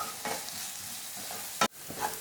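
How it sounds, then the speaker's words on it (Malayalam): Onion, ginger, green chili and curry leaves sautéing in hot oil, a steady close sizzle with soft stirring scrapes and one sharp clack of a spoon against the pan near the end. "എണ്ണ ചൂടായിട്ട് വരുമ്പോൾ നമ്മുടെ സവാള, ഇഞ്ചി, പച്ചമുളക്, കറിവേപ്പില എല്ലാം ചേർക്കാം. ഇനി ഇതൊന്ന് വഴന്ന് വരട്ടെ"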